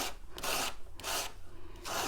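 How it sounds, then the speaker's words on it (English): Steady rough rasping of sanding a sterling silver ring band, with rhythmic back-and-forth strokes that rise and fall roughly every half second. Quiet and close. "I've gone all the way around the ring with the rough sanding"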